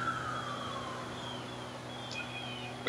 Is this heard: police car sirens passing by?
yes